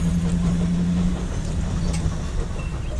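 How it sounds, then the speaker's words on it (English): Jeddo Coal Co steam locomotive 85 pulling the Rockton & Rion excursion train eastbound across Highway 321 in Winnsboro, South Carolina, a loud, close, steady rumble of rolling cars with wheel clatter and a brief whistle-like tone early on. "that was the Rockton Rion excursion train headed eastbound across Highway 321"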